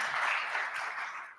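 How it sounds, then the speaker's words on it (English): Applause from a gathered audience at a Houston Marathon weekend press conference, a steady wash of clapping that stays fairly even throughout and tapers slightly at the end. "How about a round of applause for that?"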